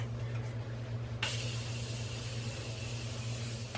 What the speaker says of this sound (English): I'm gonna use the Morphe Continuous Setting Mist